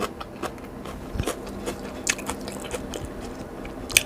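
Fresh raw krachiao flower is eaten with chili paste, close crisp bites and wet chewing crunches coming in irregular bursts.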